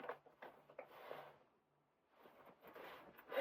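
A zipper pulled up on a bomber-style jacket with elastic at the arms and pockets, heard as a few short, quiet rasping strokes, separated by pauses, with light fabric rustle.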